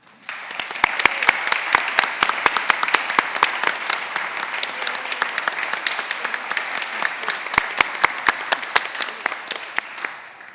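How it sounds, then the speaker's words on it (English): An audience at a school opening parent meeting gives a round of applause indoors, dense steady clapping from many hands that starts abruptly, holds level for about ten seconds, then fades. "please take a moment to stand so we could all give you a big round of applause."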